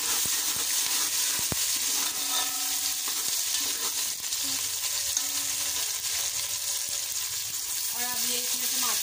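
Browned onions frying with green chili, garlic and ginger in a home kitchen pan, a steady broadband sizzle with occasional stirring scrapes and clinks, close and continuous throughout, with no talk.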